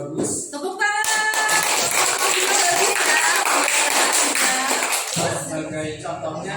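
A group claps at a presentation session, a burst of scattered hand claps rising quickly and fading after a few seconds, with voices mixed in.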